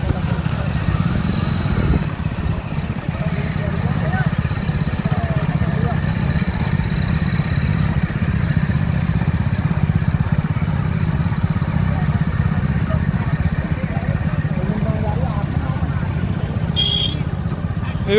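Motorcycles in a village race, a continuous mid-pitched engine drone holding steady for the whole stretch, with crowd noise and talk underneath.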